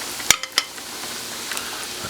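Two pieces of country-fried turkey sizzle in about an inch of oil at 360 degrees, a close, steady crackling hiss broken by a couple of sharp utensil clinks near the start.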